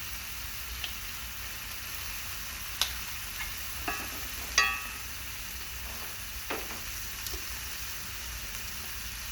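Butter melting in a pan alongside venison, making a faint steady sizzle with scattered soft pops and ticks, quiet and without talk.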